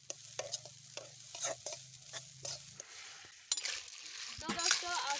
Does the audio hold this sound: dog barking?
no